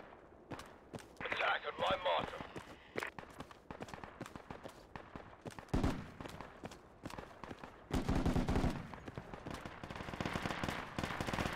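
Rapid gunfire bursts and single shots from the military shooter game Project Reality on the Burning Sands map, crackling repeatedly with louder bursts in the middle and end, while players talk over it.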